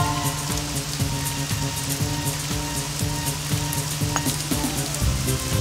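Steady rain patters and hisses across a golf course in a video game, a dense, even wash of noise with low background tones and no voices.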